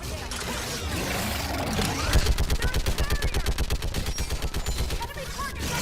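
Mounted gun firing in the video game Mass Effect, a rapid, regular burst of loud shots lasting a few seconds amid battle noise, with voices calling out over it.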